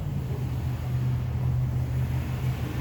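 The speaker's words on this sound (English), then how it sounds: "You can hear their cars." Cars driving past on a street corner, a steady low engine and road rumble with some wind noise, continuous and moderately loud with no talking.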